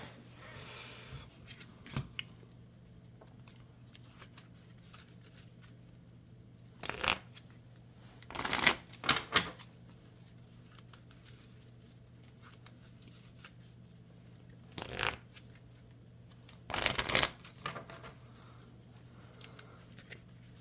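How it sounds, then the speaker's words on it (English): A deck of Marvel Champions cards is shuffled in several short, crisp bursts of riffling, separated by quiet pauses. "And then I need to shuffle."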